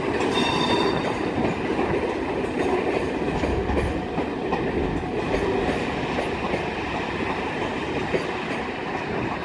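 Class 37 diesel locomotive 37 423 passing through Carlisle station on the West Coast Main Line with a DBSO at the rear, a loud, steady rumble and clatter of engine and wheels filling the whole stretch with no talk.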